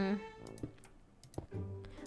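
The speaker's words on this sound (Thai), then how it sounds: "ก็ขออภัยสำหรับเสียงคีย์บอร์ดด้วยนะคะทุกคน" Computer keyboard typing during Minecraft play, a few sharp key clacks scattered between a woman's speech, close and fairly quiet.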